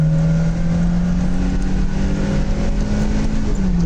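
Simca Rallye 2, a light French rear-drive sports car, with its engine held at steady high revs, a loud continuous drone with a strong low hum throughout.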